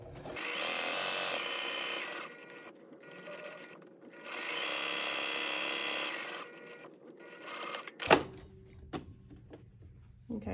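A sewing machine stitching around a fabric box, running in two long steady whirring bursts separated by pauses, close and clear, followed by a sharp clack and quiet handling sounds.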